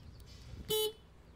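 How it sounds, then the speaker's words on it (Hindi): A short electronic horn beep from a 2023 Mahindra Treo Yaari electric auto-rickshaw, thin and high-pitched, sounding once over a low background hum. "हॉर्न"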